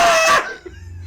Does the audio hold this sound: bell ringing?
no